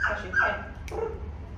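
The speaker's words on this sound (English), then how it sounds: "she has sort of like that, the nuisance bark, where she wants attention" A pet dog gives a nuisance bark for attention: a couple of close, sharp barks and a whimpering yip over a low background hum, with no talking.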